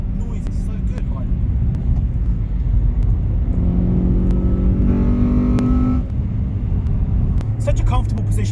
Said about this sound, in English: It just sounds amazing, doesn't it? The VTEC noise is so good.